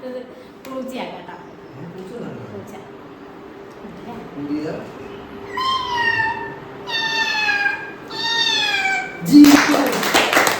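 A person imitates a cat, giving three drawn-out meows in a row, each with a rising then falling pitch, over quiet background noise and faint talk. A brief loud rustle follows at the end.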